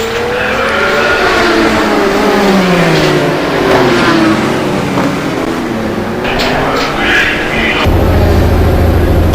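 Race cars weave past slower lap traffic in a GT1 racing video game at Magny-Cours, engines loud and continuous with rising and falling revs, a brief tire squeal, and a sharp shift in engine note near the end.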